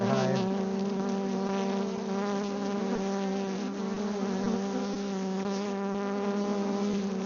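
Honey bees buzz around their hive, a dense, steady drone of many insects close by that holds without a break.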